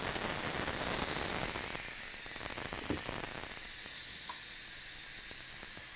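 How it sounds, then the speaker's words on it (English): Steam rushing out of a pressure cooker as it is vented to depressurize after cooking black bean soup, a steady loud hiss that carries on throughout with no talking. "be careful when you vent it, because what's gonna happen is that steam is gonna come out very quickly"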